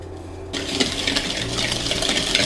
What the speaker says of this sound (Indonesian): tadi untuk bagian kuningnya dikocok sampai warnanya berubah pucat dan gulanya terlarut